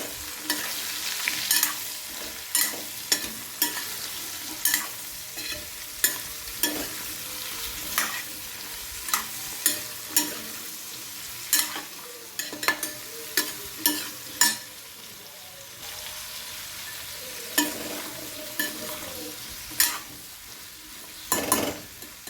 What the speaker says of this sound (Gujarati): હવે આ કેરી છે તે નાખી દઈશું અંદર હલાવીશું